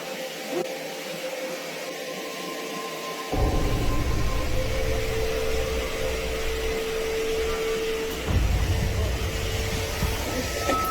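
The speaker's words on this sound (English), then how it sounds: "Martina is casually vacuuming the hallway carpet." A vacuum cleaner runs on a hallway carpet, starting after a quiet moment with a sudden loud roar and a steady whine, then surging louder again partway through.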